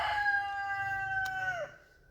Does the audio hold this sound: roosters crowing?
yes